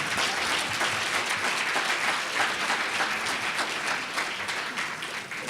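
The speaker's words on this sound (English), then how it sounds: "Okay, can we give Paula another great round of applause?" A conference audience applauds speaker Paula, a sustained round of many hands clapping that holds steady and fades slightly at the very end.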